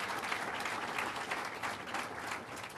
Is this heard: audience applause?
yes